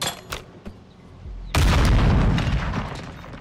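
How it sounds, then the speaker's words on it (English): A cooked grenade explodes in the Call of Duty Modern Warfare 2 campaign: a sudden loud, deep boom with a long rumbling tail, after a few softer clicks and thumps. "Throwing a grenade. Cooking it a little bit."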